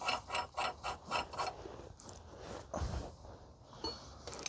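A ratchet spins a nut onto the lower ball joint stud of a 2011 Kia Forte 5 SX 2.4 during control arm replacement, giving about six quick, even bursts of clicking, followed by a few clinks of tools being handled.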